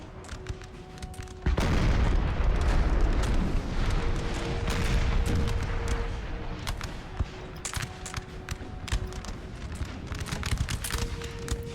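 Napoleonic cannon fire in the battle game Napoleon Total War: a heavy boom opens a long rolling rumble, followed by scattered distant cracks and pops of battlefield fire.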